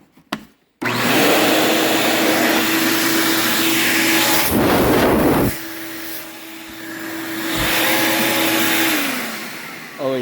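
A repaired Ridgid wet/dry shop vacuum starts after a brief clatter and runs loud and steady, its motor tone shifting as airflow changes partway through before settling back into a sustained roar.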